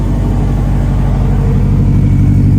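Subaru WRX engine running at a steady idle with an aftermarket muffler, a loud continuous low rumble close by with no talk over it.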